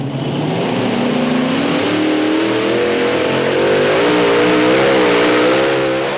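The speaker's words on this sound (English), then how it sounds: "he wailed on the throttle. That thing launched." Super modified pulling tractor at a truck and tractor pull in Hamburg, NY launching at full throttle, a loud, sustained engine roar whose pitch climbs and wavers steadily as it pulls away, with no voices.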